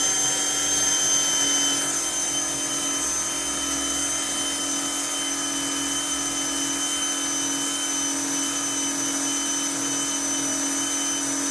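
Slot car motor running at speed on a dyno, a continuous high-pitched electric whine that holds steady and loud throughout, alone without any voices.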